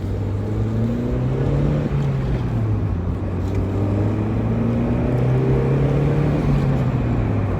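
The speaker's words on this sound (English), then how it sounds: "So driving the 1996 Mazda Miata" A 1996 Mazda Miata drives with its top down, the engine humming steadily with gentle rises and falls in pitch as it cruises, loud and close under rushing wind noise.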